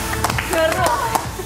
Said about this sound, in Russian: Аплодисменты, да.